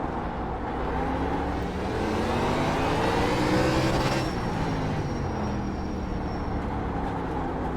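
A race car engine in the iRacing sim at the LA Coliseum track, held in 3rd gear, a continuous loud droning roar with rising and falling pitch sweeps as the revs climb and dip.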